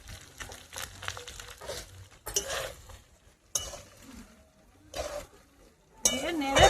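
Fried rice being stirred in a pan with a spatula, a series of scraping, clattering strokes in separate bursts, close and fairly loud, with a louder sizzling scrape at the end.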